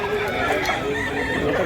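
A bullstag rooster, a young cock just over a year old, crows nearby in a drawn-out call amid background chatter and ambient noise.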